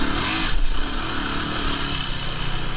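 An off-road motorcycle on a mountain OHV trail near Blairsville, Georgia, runs with a steady, close engine drone and a brief louder surge early on, with rough trail clatter underneath.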